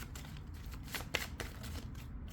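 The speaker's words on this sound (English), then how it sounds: "Let me just get the last card out." Tarot cards riffle and slide as they are shuffled and one is drawn from the deck, a close, soft papery rustle with a few sharper flicks over about two seconds, no voice.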